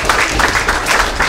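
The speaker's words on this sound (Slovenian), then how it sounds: "tudi za njih damo en velik aplavz." Audience applause for the Slovenian folk ensemble Lojterca from Slovenj Gradec, Koroška, at an outdoor show, heard as steady, dense clapping at even loudness through the whole short moment with no talk over it.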